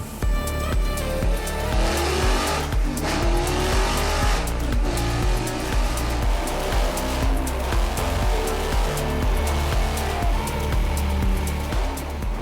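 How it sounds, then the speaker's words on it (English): An Audi R8 race car engine roars hard and steady at high revs on a dynamometer run, loud and close, with a continuous throaty mechanical drone throughout. "Let's do a dyno run on that first, see what power that makes"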